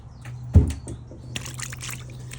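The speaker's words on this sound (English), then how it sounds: "And I'll add some more water." Water poured onto soaked cardboard covering a worm compost bin beneath a chicken coop, a short splashing burst followed by soft trickling and dribbling, close and fairly quiet.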